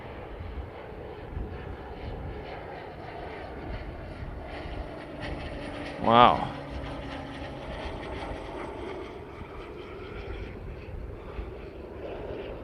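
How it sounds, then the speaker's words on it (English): A small airplane flies in to land at San Carlos airport near Redwood City, heard from a street as a steady engine drone over road noise, swelling briefly as it passes overhead, with a single short exclamation from a person. "Lots of planes flying back into the San Carlos airport nearby here to Redwood City after the weekend."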